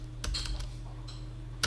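Close computer keyboard typing in short bursts of taps, ending with a firmer keystroke like the Enter key, heard alone at low level.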